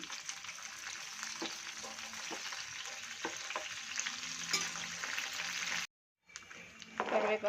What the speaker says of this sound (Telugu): కొద్దిగా కరివేపాకు ఆయిల్లో వేసి వేయించుకోవాలి